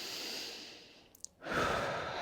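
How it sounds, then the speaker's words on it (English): A long, slow exhale through the mouth during a seated hip mobility stretch, a soft airy rush that fades out, then after a brief pause a fuller breath swells in and holds steady to the end. "Breathing in through the nose,"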